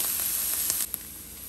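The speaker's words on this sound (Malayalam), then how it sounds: "ചില്ലി ഓണിയൻ ഒന്ന് ഫ്രൈ ചെയ്തെടുക്കുക." Red chilli and onion frying in a pan give a steady, close sizzling hiss. A few sharper crackles and spits rise out of it, and the sizzle drops slightly partway through.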